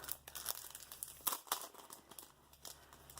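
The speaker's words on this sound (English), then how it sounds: "Sorry about the bag noise." A plastic bag crinkles and rustles up close from a planner sticker haul in a cardboard mailer, with continuous irregular crackling and a few sharper crunchy bursts, fairly quiet.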